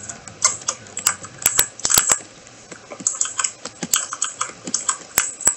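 Someone types steadily on a computer keyboard, with continuous close clicking and a few sharper key strikes that stand out, set against a faint steady background hum.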